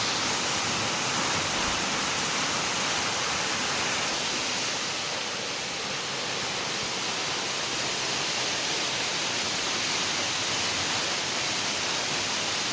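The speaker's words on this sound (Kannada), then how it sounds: "ಅರೌಂಡ್ 200 ಫೀಟ್ ಕೆಳಗಡೆ ನೀರು ಬೀಳುತ್ತೆ." A waterfall near Shiroda in the Belgaum area drops about 200 feet, heard as a steady, dense roar of falling water that fills the whole clip without voices.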